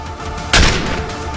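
A single sharp gunshot in a crime reconstruction, set at night near village fields, bursts loud and close against a steady background and then fades into a short rumbling tail.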